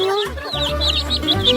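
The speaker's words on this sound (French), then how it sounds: "Regardez, c'est des vrais poulets. Oh, regardez ces poussins." Real chickens and little chicks cluck and peep close by, with continuous busy chatter of high chirps over lower clucking throughout.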